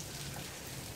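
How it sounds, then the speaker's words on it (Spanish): Rain falls steadily outdoors in a dense, even patter that fills the whole short moment with no voices. "pero como pueden ver, está la lluvia."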